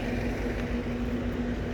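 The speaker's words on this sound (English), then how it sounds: "Yeah, the exhaust fans are noisy over here." Noisy air conditioner exhaust fans run steadily close by, a continuous low droning roar with a constant hum and no pauses.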